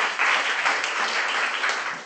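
An audience at a magic show with a card and cigarette trick claps for two assistants: dense, continuous applause, fairly loud and close, filling the whole moment with no voices.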